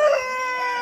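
A red-feathered chicken on a farm gives a short crowing call that starts loud and close, then trails into a faint lingering tone.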